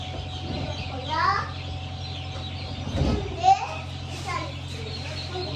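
Newly hatched chicks fresh from an incubator cheep in short high chirps at close range, with children chattering in the background.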